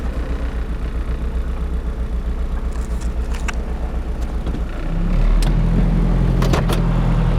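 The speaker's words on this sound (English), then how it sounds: "It's really not running that bad for being sitting so long. Of course, it's got that misfire." A 1985 Chevy Cavalier engine running after sitting a long time, idling with a steady, slightly uneven misfire pulse, close up, with a few faint clicks and the engine note rising and thickening near the end.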